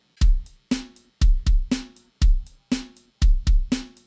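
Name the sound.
drum loop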